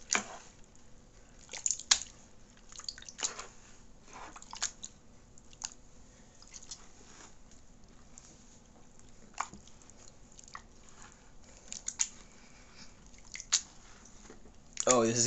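Food being mashed by hand before blending, with soft wet squishing and dripping sounds, intermittent and close, over a quiet background.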